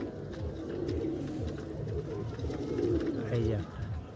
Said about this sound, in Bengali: এই যে পায়রাগুলো তিনটে,